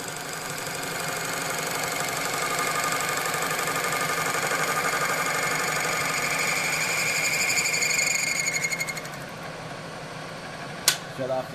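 A boring machine cuts a bore through a babbitt connecting rod, making a steady mechanical whirring hum with a high whine that stops near the end. A sharp click follows, and there is no talk.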